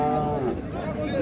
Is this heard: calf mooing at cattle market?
yes